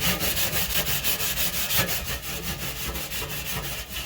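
Scrubbing burnt-on grease off a kitchen stove, heard as a steady, close back-and-forth rubbing and scraping that continues in rapid strokes without pause.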